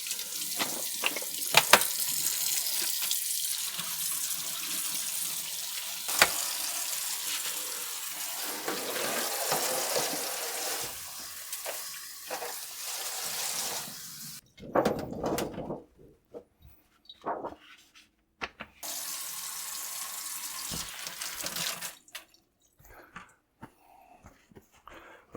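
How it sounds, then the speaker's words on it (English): Cold water streams from a kitchen tap while a cured salmon fillet is rinsed for cold smoking, a steady hiss that runs for long stretches, cuts off briefly, then gushes again. "Cold water, please."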